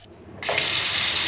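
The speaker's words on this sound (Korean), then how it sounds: "그 다음에 요 세면기 수압." A bathroom washbasin faucet in a budget Pattaya hotel is opened after a moment of quiet, then pours in a steady, moderate-pressure stream close by.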